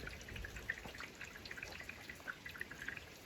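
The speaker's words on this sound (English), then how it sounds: "it starts to shower right when I'm in the middle of this, which is great, because we do need the rain." Rain begins to fall as a light shower, with faint scattered drips and patters of water landing close by at an irregular rhythm.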